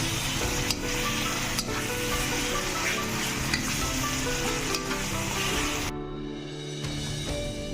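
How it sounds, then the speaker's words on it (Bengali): Tomatoes sauté in a spiced masala with a continuous close sizzle. Occasional stirring scrapes and a low background hum run beneath it, and the sound drops off slightly near the end. "এইভাবে টমেটোগুলো এবার কষাচ্ছি"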